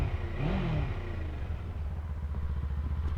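A Kawasaki Eliminator 500 motorcycle engine gives one quick, loud rev that rises and falls, then settles back into a steady, close, throbbing idle.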